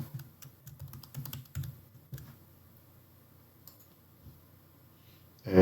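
Password being typed on a computer keyboard during a software administration session: a quick run of light, uneven key clicks, fairly close, then a pause and a louder final knock.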